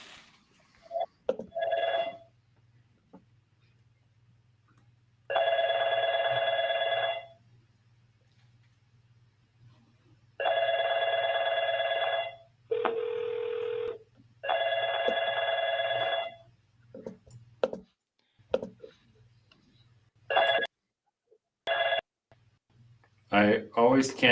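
Automated telephone dialer tones during a live cold call to an HVAC business, several long steady multi-tone bursts separated by gaps over a low steady hum.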